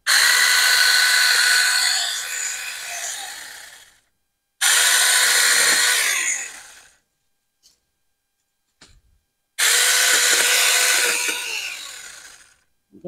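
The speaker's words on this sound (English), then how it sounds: "I don't even know how to use a chainsaw." A loud chainsaw roars in three long bursts, each revving hard then winding down, separated by short silences.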